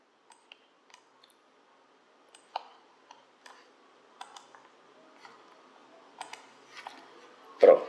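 Sparse, sharp computer mouse clicks spaced irregularly while someone navigates a digital library platform, fairly quiet in a near-silent room, with a slightly louder burst of sound at the very end.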